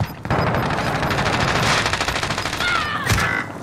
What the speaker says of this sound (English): Get a machine gun out.